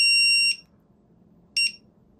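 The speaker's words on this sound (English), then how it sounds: "you have to hold that in to turn off the buzzer and let it know that you found the quad" An FPV drone finder buzzer gives two shrill electronic beeps, the first about half a second long and the second shorter, loud and close with quiet between them.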